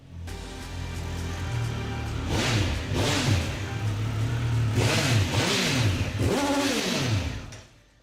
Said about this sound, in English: we've got even more of that triple bark from the 1200 RS